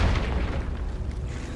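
A Confringo spell explodes in the Hogwarts Legacy video game, a deep, loud boom with a rumbling tail that fills the whole short moment.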